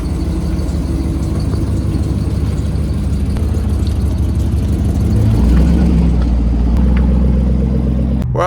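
A Chevrolet Corvette C6 engine runs steadily with a deep low rumble heard from inside the moving car, a constant drone that swells slightly toward the end.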